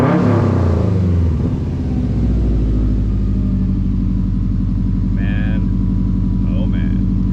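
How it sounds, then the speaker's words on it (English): Subaru WRX STI, a 2018 model fitted with a Tomei Ti titanium exhaust, revs loudly and close, its engine note dropping back to a steady deep idle rumble, with brief voice sounds toward the end. "I'll even rev it up real quick."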